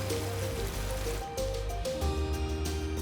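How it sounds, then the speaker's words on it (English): Rain runs off mountain slopes in a steady, dense hiss of falling and rushing water, continuous and moderately loud under a low tonal drone. "The rain runs off the mountains, building momentum as it descends to the valley floor."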